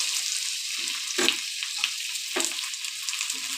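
Onions fry in a pan for a curry, a steady close hiss of sizzling oil broken by a few soft stirring scrapes and clicks. No voice is heard.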